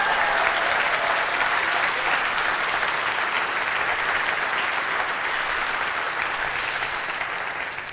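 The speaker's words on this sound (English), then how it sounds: "can we just have a round of applause, please" A large audience at a university chancellor's installation ceremony claps steadily in dense, sustained applause that fades slightly toward the end.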